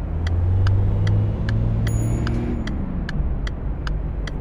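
A car pulling away during a driving test, steady engine rumble with a low rising tone as it moves off, close and continuous, with faint ticking from the indicator repeating throughout.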